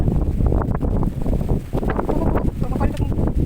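Wind buffets the microphone outdoors on a hot day, a steady rough rumble with gusty bursts while a person talks over it.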